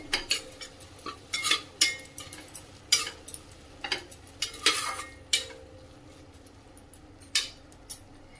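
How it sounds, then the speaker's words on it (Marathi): Spices such as turmeric, red chilli powder, kitchen king and biryani masala are stirred in a pan for prawn rice, a utensil scraping and clinking against the metal in irregular bursts, close and alone. "सर्व मसाले व्यवस्थित परतून घेऊया।"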